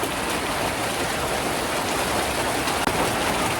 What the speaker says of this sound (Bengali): এখন তো মনে করেন আসছে এই বৃষ্টি নামছে